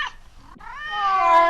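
A cat meows once after a short faint chirp, the call rising and stretching into a long, fairly quiet drawn-out wail.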